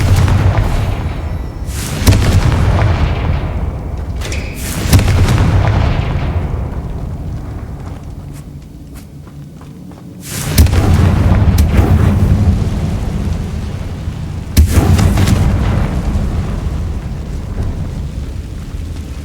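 Confringo spell blasts from the Hogwarts Legacy video game hit as several heavy booming explosions, each followed by a long rumbling decay, spaced several seconds apart and loud.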